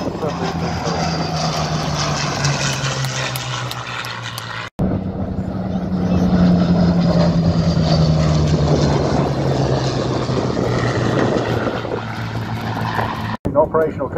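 Vintage aircraft fly past at the Southport Air Show, a broad steady engine roar with a droning tone that swells and lingers across the pass, briefly cut twice, with no one talking over it.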